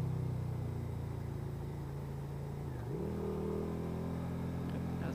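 A motorcycle engine heard close, idling at a steady drone before dipping and then briefly revving up during a downshift.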